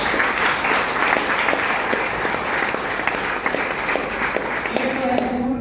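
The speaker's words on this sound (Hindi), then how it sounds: "जोरदार ताली।" Loud, dense applause from an audience at a business meeting fills the whole stretch, steady and close, with a few sharper claps standing out near the end.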